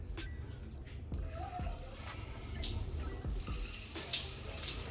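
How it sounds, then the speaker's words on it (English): A water tap switched on in a bathroom during a hair wash day: a faint, steady hiss of running water that builds slightly after the first second and continues to the end, with brief clunks and knocks over it. "I'm just gonna switch on the water so long"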